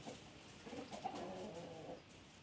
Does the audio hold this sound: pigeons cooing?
yes